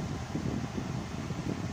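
The air conditioning blower of a Nissan Sentra N16 with a defective intake air control valve runs turned up, a steady broadband whoosh of moving air, continuous and fairly soft.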